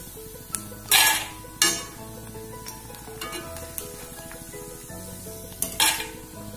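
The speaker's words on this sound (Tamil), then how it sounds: "இப்படி போட்டு ஐ திங்க் கோல்டன் ப்ரௌனாக பொரித்து எடுக்கணும்." Macaroni kurkuri deep-frying in oil until golden brown, heard as a low bubbling sizzle broken by several sharp metal clanks and scrapes of a ladle against the pan, close by with no talking.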